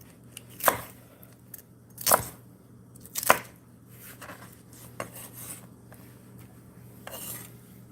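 Chopped okra, green tomato, Vidalia onion and peppers tossed together in a bowl, giving a few sharp scraping clatters spaced a second or so apart, then softer rustling shuffles, close and alone over a low hum.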